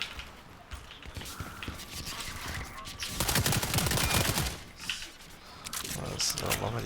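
Automatic gunfire rattles in the World War 3 video game, with sustained rapid bursts that swell loudest in the middle and return near the end over a busy background of game noise.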